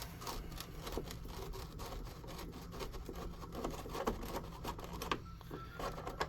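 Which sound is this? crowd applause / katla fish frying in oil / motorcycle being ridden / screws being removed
screws being removed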